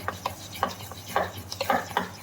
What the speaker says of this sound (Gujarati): અને હલાવી લેવાનું છે એક જ દિશામાં હલાવવાનું છે